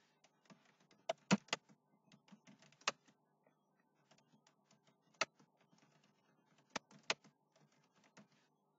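Someone types on a computer keyboard in a quiet room: sparse, irregular clicks with a few sharper key strikes standing out, all faint and close.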